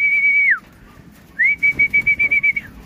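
Racing pigeons returning to their loft after a derby training lap are met with a shrill whistle, one long tone and then a quick series of rapid pulsed whistle bursts, close by with no talk over it.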